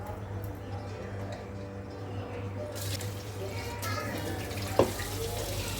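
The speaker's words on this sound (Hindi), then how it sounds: "दो तीन पानी डाल के इसको धो लेंगे अच्छे से।" Rice is washed in water for chicken pulao, with steady sloshing and splashing close by, a sharper splash near the end, and faint speech in the background.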